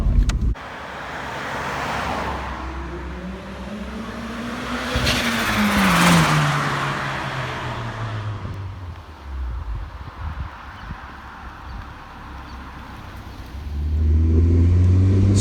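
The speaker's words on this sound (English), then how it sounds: "go do some flybys for the boys to show you what this beast sounds like" A turbocharged Mazda MX-5 makes several passes along a small-town street, its engine swelling loud and rising in pitch as it approaches, then falling away. The car returns and builds again near the end.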